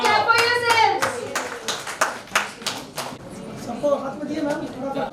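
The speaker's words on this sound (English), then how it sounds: "Come on, clap for yourselves." A group of people clap their hands in a short, uneven burst of sharp claps, loud and close, with voices speaking around and over the applause.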